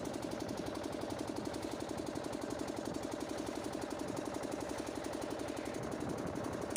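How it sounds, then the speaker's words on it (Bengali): A fishing boat engine on the Matla River in the Sundarbans chugs steadily with a rapid, knocking mechanical rhythm, moderately distant and unchanging, with no voices over it. "এই যে দেখতে পাচ্ছ সামনে কিন্তু আরও একটি মাছ ধরা বোট আসছে।"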